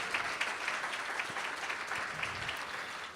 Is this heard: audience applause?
yes